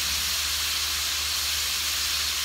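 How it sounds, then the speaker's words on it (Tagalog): Oil hitting a hot pan for Thai pork basil gives a steady, loud, broadband hiss and sizzle that holds evenly throughout, with no talking over it. "let's add in a little bit of oil"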